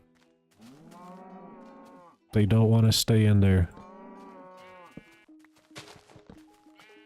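Someone speaks, then two loud, close cow moos from Minecraft cut in back to back before his talk resumes.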